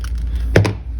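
Scissors make a quick snip through a battery holder's wire, a single sharp click-like cut near and close-up, with a faint second tick just after.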